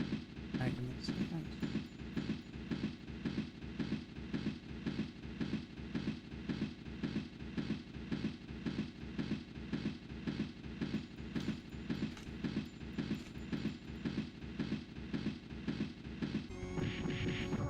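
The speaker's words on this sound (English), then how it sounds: "you get to hear the sound of the train" A subway train rumbles past with a steady rhythmic clatter of wheels on rail joints, loud and continuous throughout, ending with a brief higher-pitched hiss.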